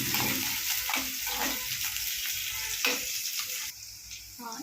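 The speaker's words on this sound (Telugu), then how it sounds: "ఇప్పుడు అందులోకి పచ్చిమిర్చి, ఉల్లిగడ్డ ఇప్పుడు వేసుకొని వాటిని మంచిగా కలపెట్టుకోవాలి." Green chillies and onion frying in a pan while being stirred, a loud close hiss and crackle with soft scraping strokes throughout.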